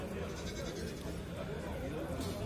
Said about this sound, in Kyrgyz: Мына жерде мынандай митиз койлор келип калыптыр бул жерге.